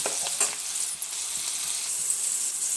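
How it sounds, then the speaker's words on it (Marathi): Green chillies sautéing in hot oil with turmeric, a dense close hiss of frying with a few quick stirring scrapes, steady throughout and no voices. "तर गरम तेलामध्ये मिरची टाकलेली आहे. छान अशी मिरची परतून झालेली आहे."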